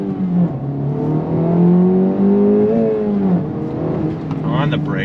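An Acura Integra Type S pulling hard in first gear, the engine note rising steadily as it revs, loud and close, and a voice speaks briefly over it.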